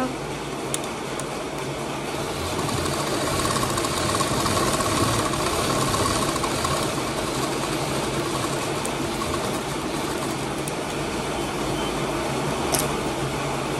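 A sewing machine stitches the seams of a girl's long gown, running in one continuous, even mechanical whirr from start to finish.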